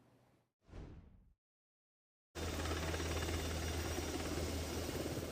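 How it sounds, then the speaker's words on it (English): A Black Hawk helicopter flying during a flood rescue at Havasupai Falls, heard as a loud, steady broadband rotor and engine roar that starts abruptly after a brief silence and holds continuously. "A Black Hawk helicopter comes to the rescue last summer during flooding at Havasupai Falls"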